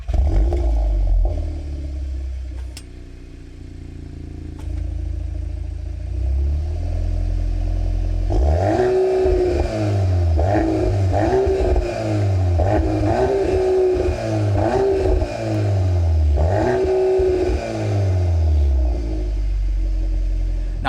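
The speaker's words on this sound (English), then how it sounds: "It does change the way this vehicle sounds, so we'll fire it up. You guys can hear how it sounds real quick." 2025 Volkswagen Golf R with an Akrapovic titanium exhaust starts after a low idle, then revs in a series of loud, rhythmic blips that rise and fall, close by and alone.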